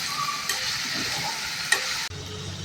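Broad beans and eggplant sauté in a pan, giving a steady, close hiss of frying with a few spatula scrapes and a brief clatter, then the sizzle drops quieter after a sudden break.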